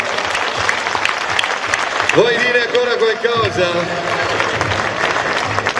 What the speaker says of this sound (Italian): Facciamo un applauso al grande Francesco Damiano